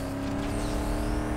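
A car accelerates during a police chase in NFS Most Wanted 2005, its engine holding a steady, droning tone under continuous road noise without a break.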